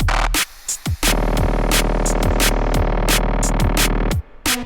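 A drum and bass track built with reversed samples plays throughout, with dense rolling bass, steady fast kicks and snares, and bright swelling reversed hits recurring across the loud, continuous mix.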